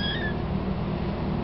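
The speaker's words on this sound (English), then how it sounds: "out of all of them, he meows the most" A three-week-old kitten gives a single short, high meow at the start, close by, followed by a low steady background hum.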